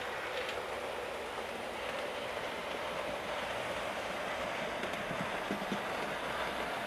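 Hornby OO gauge streamlined LMS 'Coronation' model locomotive hauling a rake of Stanier carriages on an indoor test layout, giving a steady, continuous running rumble and whir with faint rail clicks, no talk.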